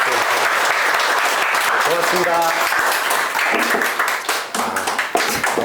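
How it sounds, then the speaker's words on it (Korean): An audience at a Korean talk event claps loudly and continuously, with people speaking over the applause before it thins into scattered claps near the end. "박수로 좀 감사하고"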